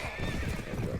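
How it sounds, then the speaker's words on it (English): A horse whinnies and hooves clop in the Mount and Blade A Clash of Kings game, a close, steady mix of neighing and hoofbeats over dense game noise. "And took out his horse."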